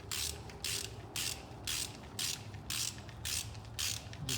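A hand ratchet snugs the engine bolts during a rotating assembly install on a 24-valve 5.9 Cummins, clicking in quick repeated bursts of pawl ratcheting, about eight strokes in steady rhythm, close and fairly quiet.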